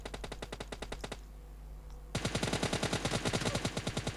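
Rapid automatic gunfire in the PUBG Lite mobile battle royale game, a steady fast stream of loud shots that pauses for about a second, then resumes louder and denser.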